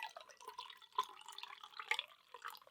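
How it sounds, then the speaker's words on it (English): Alcohol-free watermelon sour beer poured from a can into a glass, a soft continuous trickling and splashing liquid pour with faint dripping, close and quiet, no talking. "Pouring into my AF Beer Club glass today."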